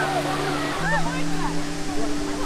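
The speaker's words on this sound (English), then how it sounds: "This is the waterfall. This is Krang Waterfall." Krang Suri waterfall rushes with a steady, close roar of falling water, while voices chatter faintly over it.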